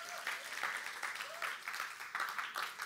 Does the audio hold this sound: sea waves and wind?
no